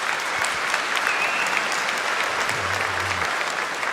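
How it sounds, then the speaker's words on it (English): Sustained applause from a lecture audience at a public dialogue, steady and fairly loud throughout with no pauses, a dense wash of clapping filling the whole stretch. "we're entering the part of the program where there's going to be a lot more applause"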